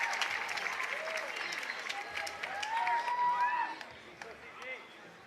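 Crowd applause at a professional pickleball match in the PPA Finals, a steady wash of clapping with some cheering, fairly distant and moderately loud, while a commentator talks over it.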